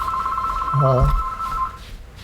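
A telephone rings in a home, a steady electronic trill held for over a second, heard close and clear while a voice speaks briefly over it partway through.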